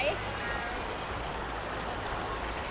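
Water rushes steadily at a waterfall stream with clear water, a continuous broadband wash close by, fairly even throughout with a brief faint high tone at the start.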